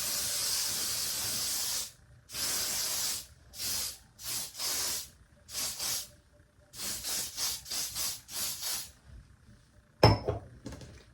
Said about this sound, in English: I'm just gonna go in with the hairspray on this side